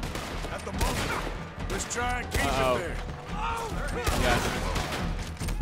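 Gunfire rings out in the video game Red Dead Redemption 2 as a burst of sharp shots, a couple of them loud and close, mixed with clattering game sounds while someone talks over them.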